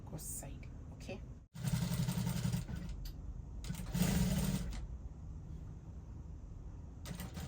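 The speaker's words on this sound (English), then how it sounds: "Then you take to the machine, you stitch the neckline together and then flip it to the ghost side." A sewing machine stitches the neckline of a bustier dress in two short bursts, near and steady, with quieter handling noise in between and under the runs.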